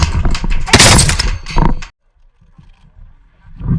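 Gunfire in the video game Ghost Recon Wildlands: a loud, dense burst of shots for about two seconds, then near silence with faint low rumbling and a soft rise at the end.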